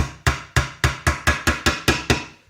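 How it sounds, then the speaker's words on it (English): Hammer delivering nine firm, evenly spaced whacks to tap a guitar part into place, each a sharp close impact with a short decaying ring, steady rhythm and no talking. "So give it a nice firm whack in the middle."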